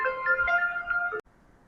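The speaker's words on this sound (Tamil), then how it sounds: "சார், ஃபோன் வருது." A phone ringtone plays a bright melodic tune, clear and close, then cuts off abruptly as the call is picked up.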